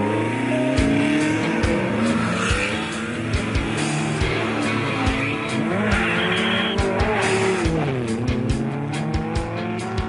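Historic Renault 4 cars in a Monte Carlo rally parade drive close by with loud engine revving, repeated gear changes and rising and falling motor tones, punctuated by sharp clicks and bursts of tire noise.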